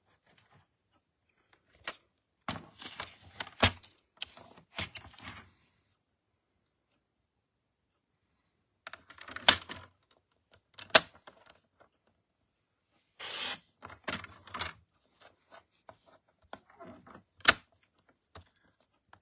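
Scissors cutting through paper while making a handmade envelope, a few bursts of crisp snipping and rustling separated by pauses, close and fairly quiet.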